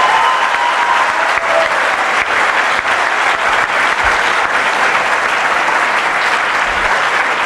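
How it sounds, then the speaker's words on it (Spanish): Loud, steady audience applause filling a lecture hall at a talk on gender ideology, continuous clapping from a large crowd with no voices on top. "les vamos a dar un fuerte aplauso también"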